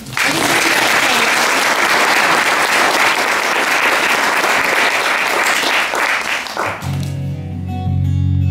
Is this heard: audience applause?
yes